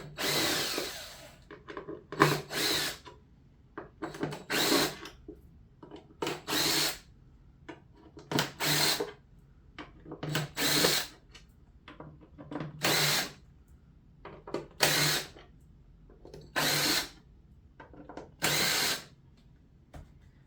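Power drill backing wood screws out of a Peavey SP5TI speaker handle, about a dozen short whirring bursts in a regular on-off rhythm separated by quiet pauses, close and clear with no talk.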